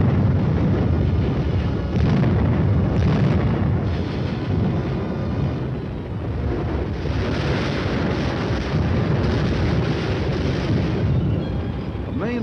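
Artillery guns fire a sustained barrage on an enemy strong point, a dense continuous roar of overlapping blasts and rumbling detonations, loud throughout, with no talk.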